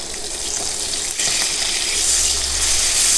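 Surmai fish frying in a hot pan, a steady dense sizzle and crackle running close and loud throughout, with faint scraping as the fish is handled.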